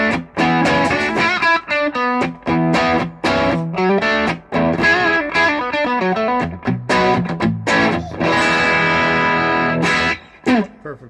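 An electric guitar plays a rhythm part through a Boss Katana amplifier on its second channel, with a distorted, chorus-tinged tone. Loud strummed chords and choppy stabs fill the clip, separated by short gaps.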